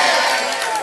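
An audience at a quiz night cheers and claps for a quiz team, a loud dense burst of crowd noise that lasts under a second.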